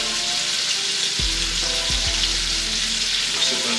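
Snakehead fish frying in a pan, a steady bright sizzle of hot oil throughout, with a few low knocks and scrapes partway through.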